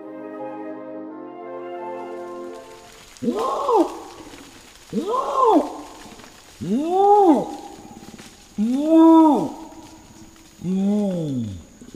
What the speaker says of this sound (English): That remarkable sound comes from a wild male orangutan.